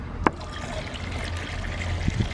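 Coolant flushing through a 2009-2014 Yamaha R1 during a coolant change, heard as a steady low trickle of liquid running throughout, close by, with a short sharp knock near the start and another near the end.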